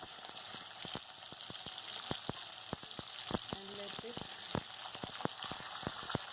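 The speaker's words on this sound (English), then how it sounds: "Okay, so I flip the another side for frying" Thin fish pieces fry in hot oil in a pan for masala fish curry, a soft steady sizzle peppered with sharp pops and crackles, while someone speaks briefly over it.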